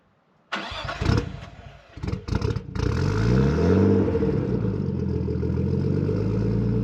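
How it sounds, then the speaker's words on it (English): A 1989–1994 R32 Nissan Skyline GTS-T's RB20DET turbo engine cranks briefly, catches and fires up, then settles into a loud, steady rumbling idle close by. "I really love the sound of an RB."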